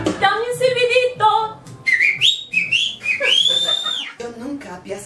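A person whistles a few bright rising and falling notes on request during a stage show, the whistle mixed with nearby talk and audience chatter.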